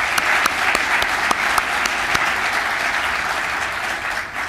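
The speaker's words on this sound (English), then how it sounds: "so please give them a round of applause as well." At a bowling congress annual meeting, the audience gives trophy winners a loud, continuous round of applause, dense clapping with a few sharper claps standing out.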